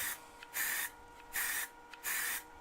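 Three bursts of aerosol spray paint hissing onto a woodturning piece on a lathe, each lasting about a third of a second with short pauses between, close and fairly loud.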